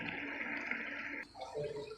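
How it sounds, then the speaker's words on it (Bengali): Water poured into a cooking pan of chicken with skin, giving a brief rushing pour that stops abruptly, followed by a soft bubbling sizzle. "একটু জল দিয়ে দিলাম"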